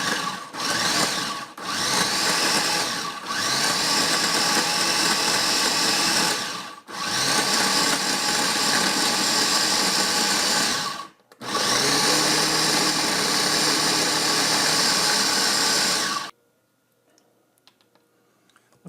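A food processor whirs loudly and close while blending a raw vegan brownie mixture, running in long bursts broken by several brief stops, then it falls silent for the final couple of seconds.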